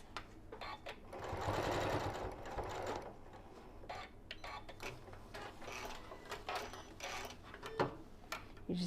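Sewing machine stitching a Japanese rice bag: a continuous mechanical whir with a rapid needle rhythm that runs steadily throughout, fairly quiet and close, with no talk.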